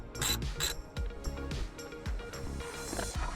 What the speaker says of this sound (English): this is a T30, so we should be able to get that in there and loosen it off